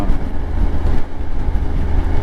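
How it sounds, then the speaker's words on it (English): A Yamaha Tenere 700 motorcycle, a 2025 model, engine braking on a commute, its low burbling exhaust rumble steady and close with continuous wind and road roar around it. "Engine braking feels good."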